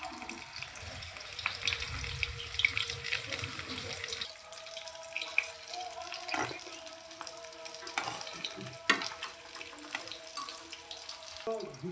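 Taro leaf fritters (kochu pata bora) fry in hot oil, giving a continuous, close hiss and sizzle for the whole stretch, with occasional small pops and stirring clicks.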